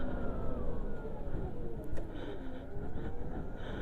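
An electric car carrying two people accelerates hard toward a speed breaker, its steady motor whine and road and tyre rumble filling the cabin, loud and close, with a rising tone as speed builds.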